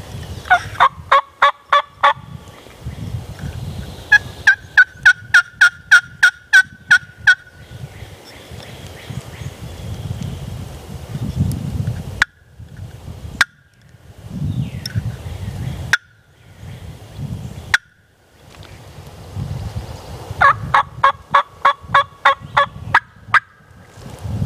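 A wild turkey hen calls during spring turkey hunting, loud and close, in fast runs of sharp yelps. The runs start and stop across the clip, with rustling and a few clicks in the quiet spaces between them.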